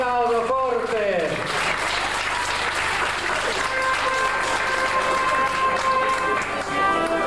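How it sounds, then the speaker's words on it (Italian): Loud audience applause for the winner of a women's race in Sardinia, dense and sustained, following a brief spoken announcement at the start, with a whistle-like tone partway through. "un bel applauso forte"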